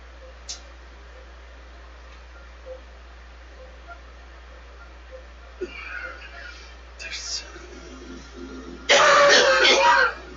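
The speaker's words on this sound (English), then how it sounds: "don't want to cough no more." A person clears their throat and coughs during a live tabletop role-playing game stream. Faint scattered throat noises lead up to a loud, harsh cough burst near the end.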